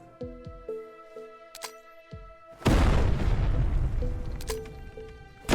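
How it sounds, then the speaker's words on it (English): A grenade detonates in the video game Dead Matter, a sudden heavy, booming blast with a rumbling tail that follows several sharp metallic clicks and pings, which resume as the roar fades. "That's a beefy explosion right there for a grenade."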